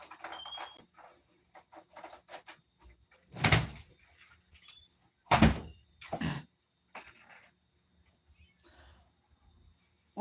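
A door opening and closing as someone walks out, with a few broad thumps and handling noises spread over a quiet room and scattered small sounds between them.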